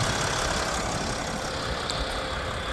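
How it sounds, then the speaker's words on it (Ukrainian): A 2017 Mercedes-Benz Sprinter refrigerated van with a three-litre, 190-horsepower diesel engine idling close by, a steady even rumble with a faint knock that holds at a constant level throughout, with no talking. "Двигунчик просто працює просто ідеально."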